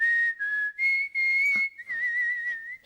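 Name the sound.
person whistling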